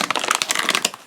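A plastic bag wrapped around a computer graphics card crinkles and rustles close up in quick, irregular bursts, with no talking.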